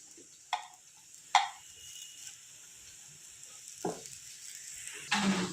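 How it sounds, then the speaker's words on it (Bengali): Pieces of gathi kochu (taro) frying crisp in oil in a pan, a soft steady sizzle with a few sharp clicks and stirring scrapes, fairly quiet and with no talk. "এই যে দু সাইড দেখো একদম কড়া করেই ভেজে নিচ্ছি"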